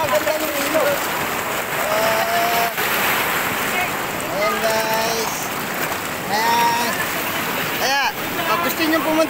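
A river rushes past with continuous broadband flowing water and splashing close by. Faint voices talk now and then under the steady noise of the water.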